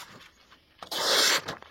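A single crisp, hissing slice through paper by a Cold Steel Frenzy 3.5 knife, lasting about half a second, with faint handling noises before and after.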